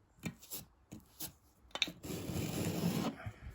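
Ready-made filler paste is spread into holes along a wall with a scraping blade, giving short rasping strokes followed by a longer sustained scrape, close and fairly quiet.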